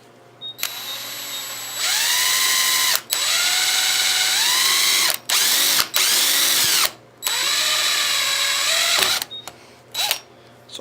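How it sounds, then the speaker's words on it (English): A power drill whines in several sustained bursts, its pitch rising and dipping as it bores into a metal bullet casing, with brief pauses between runs. "now I'm going to start drilling."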